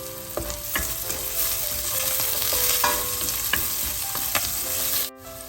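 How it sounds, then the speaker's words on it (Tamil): Curry leaves and fenugreek sautéing in oil in a pan for a potato curry: a close, steady sizzle broken by occasional clinks of a stirring spoon, cut off abruptly near the end. "சேர்த்துட்டு நல்லா எல்லாத்தையும் சேர்ற மாதிரி வதங்க விடுவோம்."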